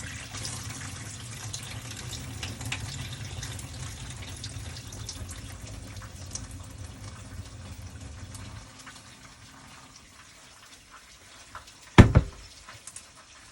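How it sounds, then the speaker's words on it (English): Rice being washed under a running kitchen tap, with a steady stream of water that cuts off after several seconds, followed by a short, sharp clatter and quiet handling near the sink. "Wash your rice when you cook."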